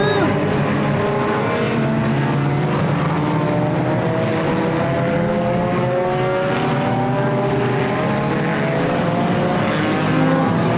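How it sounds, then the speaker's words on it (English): Race cars lap Flamboro Speedway during the Halloween Enduro 250 in a constant loud, dense engine roar, with several overlapping engines droning and whining steadily throughout. No talk is heard. "So still well underway here at our Halloween Enduro 250 at Flamboro Speedway"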